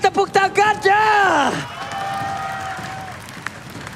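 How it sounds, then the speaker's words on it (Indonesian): In an esports arena during MPL ID Season 10 playoffs, an announcer's drawn-out shout is followed by a roaring crowd of cheers and claps that holds steady, with stray whoops cutting through. "Mana tepuk tangannya?"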